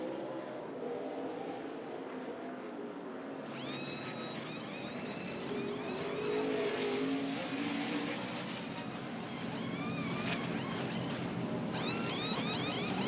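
NASCAR race cars lapping at Sonoma Raceway, engines wailing and shifting pitch as they accelerate and pass at a distance, a continuous racing drone with rising and falling tones.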